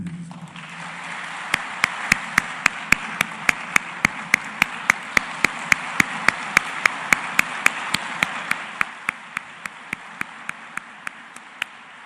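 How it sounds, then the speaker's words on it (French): A university audience at UNIFA gives a standing ovation: dense, sustained applause with steady rhythmic claps cutting through. It holds strong for about nine seconds, then thins out and fades. "recevez, au-delà des applaudissements, un standing ovation de votre UNIFA, la prestigieuse"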